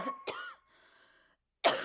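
A single short human cough, near and fairly quiet, followed by a brief pause and a second harsh burst like another cough or throat clearing.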